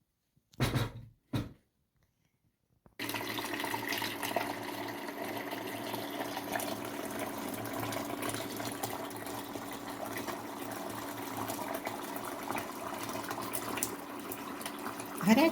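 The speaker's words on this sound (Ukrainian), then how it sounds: "взяли велику кастрюлю і заливаємо водою" After two brief bumps and a pause, hot water pours steadily and continuously into a large pot, a full, close rushing sound that keeps going.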